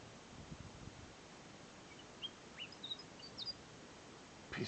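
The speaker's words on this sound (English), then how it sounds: "this Willy Wagtail is giving me the shits. Get out of the tree." A Willie Wagtail calls from a tree in a few faint, brief chirps scattered through the middle, set against a steady outdoor background hiss with no talk.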